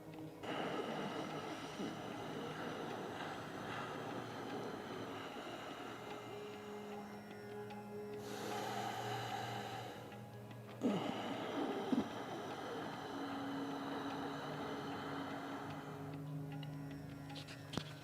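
Slow breaths drawn in and let out through the nose right beside the microphone, two soft airy swells of rushing noise over a steady faint background hum, quiet and unhurried.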